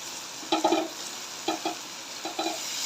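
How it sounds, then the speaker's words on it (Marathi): Brinjal pieces sautéed in hot oil with spices, with stirring scrapes and sizzles in three short bursts over a low background hiss, no voices. "याला मस्त आता ह्या तेलामध्ये व्यवस्थित परतून घेऊया"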